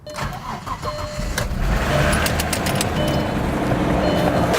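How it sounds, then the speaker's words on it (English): A car engine cranks and fires, then settles into a steady idle with a light rapid ticking from the valve lifters on top, heard close to the engine bay. "start the engine and see how long it takes for the lifter noise to go away"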